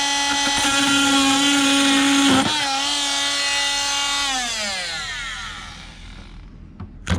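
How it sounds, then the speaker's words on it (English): A power drill whines loudly at a steady pitch, drops briefly, then winds down as the motor slows to a stop, followed by a couple of clicks. "Babe with the drill."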